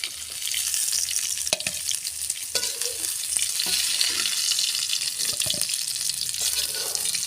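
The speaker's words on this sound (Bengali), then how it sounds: "পটলগুলো সুন্দর করে নেড়ে চেড়ে ভেজে নিচ্ছি" Pointed gourd (potol) pieces fry in hot oil in a home kitchen, a steady close sizzle with intermittent scraping knocks as they are stirred, plus occasional water-like splashes.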